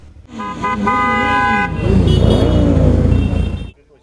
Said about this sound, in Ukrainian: Якщо ви чули хор голосних клаксонів та бачили цілу колону байкерів